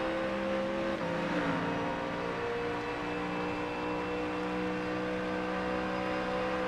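Ford Mustang GT3 at full throttle on the back straight at Road Atlanta in iRacing, a loud continuous engine drone with a brief pitch drop at a gear change, then steady wide-open running with no voices.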